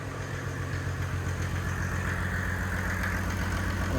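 A turbo diesel swapped into a Datsun 240Z idles cold with a steady, close, loud rumble and an even knocking throb that holds throughout, with no talking.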